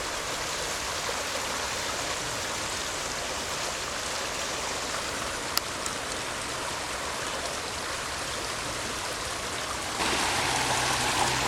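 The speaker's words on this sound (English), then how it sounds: "Kind of combination waterfall rapids." Small waterfall tumbling into river rapids, a steady broadband rush of flowing water that holds constant throughout and swells slightly louder near the end, with no voices.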